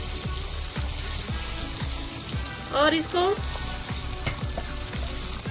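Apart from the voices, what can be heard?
chickpea water and ground masala poured into pan, sizzling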